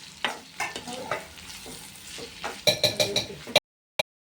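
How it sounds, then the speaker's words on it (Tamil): Pirandai sautéing until golden, a close sizzle under quick metallic scrapes and clinks of a spoon stirring against the pan, ending abruptly with one last tap after a short silence. "இவ்வாறு நன்றாக பொன்னிறமாக வதங்க வேண்டும்."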